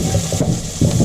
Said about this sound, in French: je vais mettre mes 2 oignons que j'ai coupés, 2 petits oignons que j'ai coupés en morceaux.